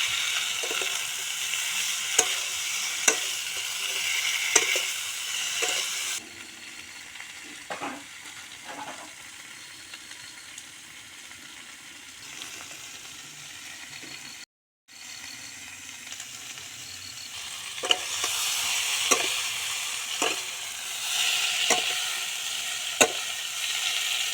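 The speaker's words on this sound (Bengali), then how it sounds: "আমি আলু আর পটল দিয়ে দিয়েছি এখন মশলার সাথে ভালো করে কষিয়ে নিব" Potatoes and pointed gourd fry with spices in a pan for a fish curry, a continuous sizzle broken by repeated scraping stirs, close and steady, with no voices.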